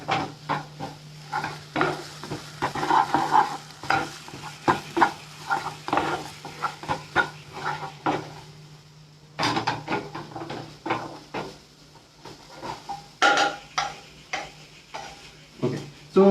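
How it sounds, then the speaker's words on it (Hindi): French fries deep fry in oil in a home kitchen: a steady, soft sizzle runs under rhythmic scraping and stirring strokes, with occasional clinks of utensils against the pot. "सो इसको हम लोगों को डीप फ्राई करना है"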